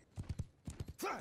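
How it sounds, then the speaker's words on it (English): Horse hooves clip-clop in quick close groups of beats in a video game, followed by a brief horse whinny. "I got a horse"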